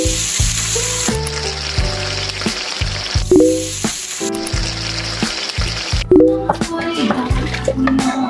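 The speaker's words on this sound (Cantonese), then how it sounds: "啱啱就將所有嘅配料炒完咗之後啦" Corn soup ingredients (corn kernels, diced potato, shredded carrot) being stir-fried in a pan, with loud bursts of sizzling and repeated scraping, clattering strokes of a utensil against the metal, stopping and starting in uneven rhythm.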